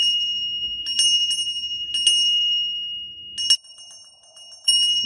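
A small hand bell rings in several bright, clear bursts with pauses between, close and resonant, ringing alone without talk.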